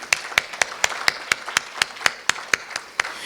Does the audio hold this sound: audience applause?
yes